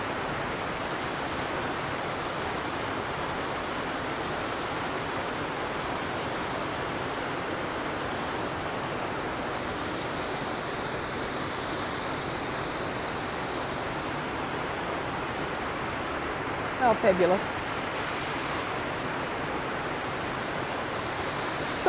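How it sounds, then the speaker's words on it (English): A 6.5-metre urban waterfall on Oakley Creek in Auckland gives a steady, broadband rushing roar throughout, close and unchanging, with one brief spoken exclamation near the end. "a beautiful urban waterfall"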